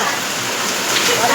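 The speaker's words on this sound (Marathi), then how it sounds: "माऊलीच्या कृपेने मोठा पाऊस येतोय" Heavy rain pours down outdoors while food is cooked for a large crowd. It makes a dense, steady hiss that stays loud and unbroken throughout.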